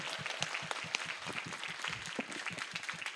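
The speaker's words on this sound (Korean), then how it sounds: "격려의 박수 부탁합니다" A church congregation at a Friday prayer meeting claps in encouragement, a fairly quiet, scattered patter of hands with individual claps standing out, heard from a distance in the hall.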